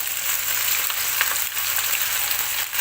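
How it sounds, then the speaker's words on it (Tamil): Chicken sizzles as it roasts in hot oil for a Saudi kabsa, a loud, steady frying hiss up close with no talking. "இதை இப்போ எண்ணெயில் நல்லா ரோஸ்ட் பண்ணிவிடுங்க."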